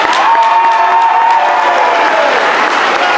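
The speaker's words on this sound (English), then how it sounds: "let's give a big round of applause for our cheerleaders" A high school assembly crowd applauds and cheers for the cheerleaders, a dense, loud, continuous wash of clapping with a few shouts rising above it.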